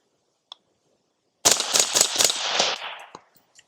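A suppressed CAM556 rifle with a 10.5 inch barrel and a Jaguar silencer on setting 7 fires a fast burst of about six loud, sharp shots, then a ringing tail that fades out. One faint click comes just before.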